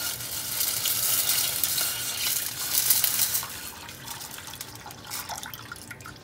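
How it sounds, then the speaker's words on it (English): Garlic starts sizzling in a hot pan, a bright crackling fry that is loud early and eases toward the end, with faint stirring and liquid sounds and no talk. "when it just starts to sizzle, because you don't want to burn garlic"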